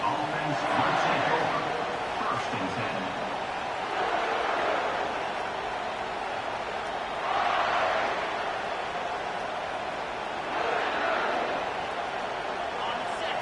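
Stadium crowd noise in a college football video game, USC at Kentucky, a steady roar swelling in periodic waves beneath continuous play-by-play commentary.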